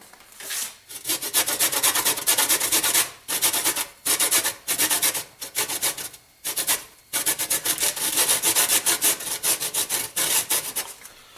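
Lemon zest scraped on a box grater, steady rasping strokes in repeated bursts with brief pauses between them, close and fairly loud, no voices.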